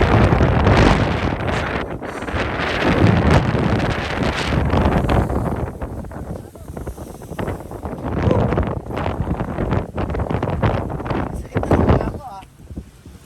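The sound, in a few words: strong wind near windmills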